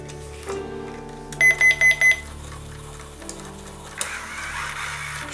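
Eaglemoss Spy Robot toy, a buildable robot kit, lets out four short, loud electronic beeps in quick, even succession, followed by a quieter background hum.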